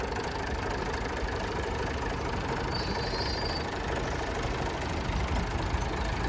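A tractor loaded with a heavy sugarcane trolley idles at a weighbridge, its diesel engine running in a steady low knocking chug, close and continuous without change.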